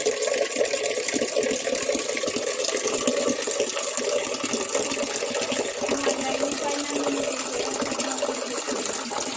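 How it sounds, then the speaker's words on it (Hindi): Water running steadily from a village tap into a container being filled, a continuous broadband splashing hiss with no speech, close and even throughout. "अब हमारे यहाँ नल में पानी आने लगा है"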